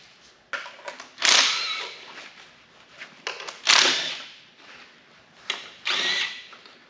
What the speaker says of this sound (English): I know I've said I hate pneumatic tools